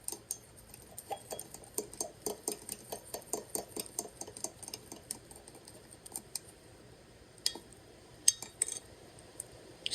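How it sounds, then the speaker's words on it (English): Spoon stirring blueberry pancake batter in a bowl, a steady run of sharp clinks and taps against the dish, fairly close and quiet, pausing briefly before a few final scattered knocks. "I'm going to stir it a little bit more."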